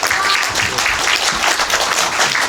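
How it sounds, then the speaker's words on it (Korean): A full cinema audience claps for the director and cast at a film's opening-day screening, with a brisk, dense applause that runs loud and continuous from start to finish. "다시 한번 박수 부탁드릴게요"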